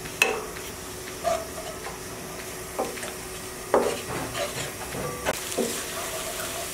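Finely chopped onions fry in a pan for morog polao, a low steady sizzle with occasional spatula scrapes and light clatters against the pan.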